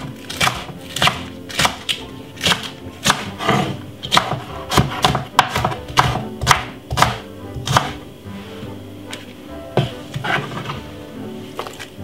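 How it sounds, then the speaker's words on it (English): A knife chops spring onion finely on a board while cooking curry goat, sharp rhythmic thuds in quick uneven bursts, close and loud, with short pauses between runs. "Spring onion, finely cut up."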